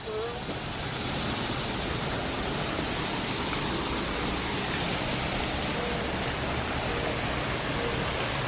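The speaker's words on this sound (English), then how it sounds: "Those beautiful waterfalls." Zoo waterfalls pour in a dense, steady roar of rushing water, broad and unbroken throughout, close and loud with no distinct voices rising above it.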